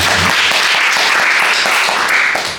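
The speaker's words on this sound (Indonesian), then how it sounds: "Tepuk tangan dulu buat Tuhan." A church congregation breaks into steady, loud applause, many hands clapping together in a dense wash of sound that holds for a couple of seconds before starting to fade.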